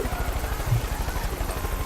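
A video-game helicopter thumps with fast, steady rotor beats that stay loud and close throughout, with no talking over it.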